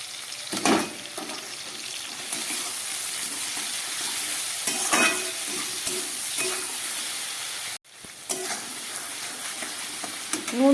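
Vegetables for a Bengali fish curry fry and get stirred in a pan, a steady sizzle broken by scraping stirs at intervals, close and fairly loud, with a brief pause near the end.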